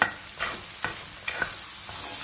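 Kerala koottu curry stirred in a pan over a low flame, with a soft sizzle under several scraping strokes of the spoon, close and clear with no talking.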